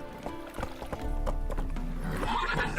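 Horse galloping in The Witcher 3 video game, rapid rhythmic hoof clops with a whinny, steady and close within game sound.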